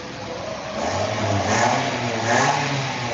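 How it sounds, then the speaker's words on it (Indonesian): A motorbike engine revs nearby, rising and swelling in two loud surges over a steady running drone, with no voices. "Ada motor."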